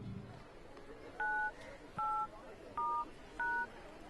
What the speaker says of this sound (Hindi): फूल वाले को फोन मिला ही रहा था